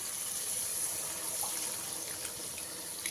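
Water is poured into a pan of fried potatoes and spice paste for a fish roe curry, making a steady, continuous gushing splash with no talking.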